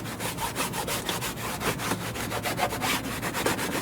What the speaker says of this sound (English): Right now we'll need to clean this trim piece and use some alcohol as well.